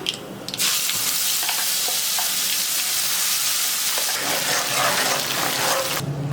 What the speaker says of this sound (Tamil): கடுகு உளுந்தம்பருப்பு பொரியட்டும்